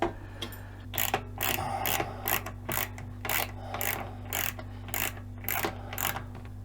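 A ratchet wrench clicks in regular bursts while backing aircraft nuts off a homemade wood stove on a sailboat, about a dozen close, crisp ratcheting strokes over a low steady hum.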